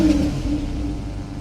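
With its switchable exhaust open, a Porsche 911 Carrera 997.2 with the 3.6-litre engine and six-speed manual gives a short rev, a loud, rumbling engine note that swells early and then settles into a steady drone.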